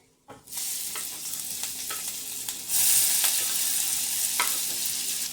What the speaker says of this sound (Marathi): चला आता कांदा, टोमॅटो आणि गाजर टाकूया.